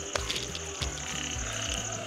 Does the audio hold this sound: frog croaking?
yes